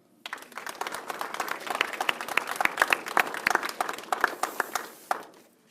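A room full of people claps steadily for students honored as Terrific Kids at a children's reading center. The dense, even applause builds quickly and holds for about five seconds before tapering off, with no voices over it.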